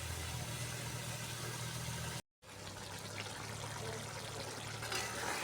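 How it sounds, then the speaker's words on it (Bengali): A pot of water boils after being added to sautéed eggplant for a bhola fish curry. The bubbling is a soft, even rush with a low hum beneath it and a brief moment of silence partway through. "জলটা ফুটে উঠেছে, দেখো"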